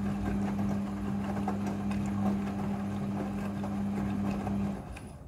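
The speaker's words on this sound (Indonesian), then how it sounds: "Mesin cuci front loading sudah full automatic dalam mencuci." A Midea front-loading washing machine hums through its rinse cycle with a steady low motor drone and faint sloshing, then winds down near the end.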